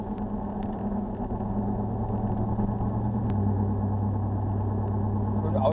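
Car driving along a country road between Zgorzelec and Lwowek, a steady low engine and road rumble heard from inside the cabin, constant and even throughout.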